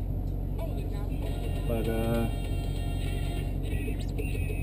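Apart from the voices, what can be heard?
2012 Jeep Grand Cherokee SRT8 without muffler driving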